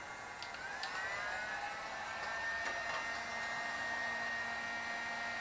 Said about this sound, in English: still like using the heat gun to help aid in anything, also as well as getting the glue to dry